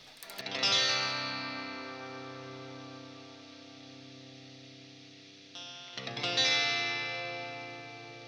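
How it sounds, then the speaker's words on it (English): A clean electric guitar on its bridge pickup in single-coil mode, played through a Line 6 HX Stomp Tone Sovereign drive, rings out in two chords, each swelling then sustaining and slowly decaying, with no talking. "So this is sort of the clean going through the bridge pickup on single coil mode."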